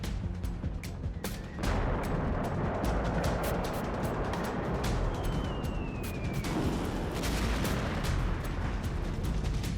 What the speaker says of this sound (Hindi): मिसाइल स्ट्राइक और शिप में भयंकर विस्फोट।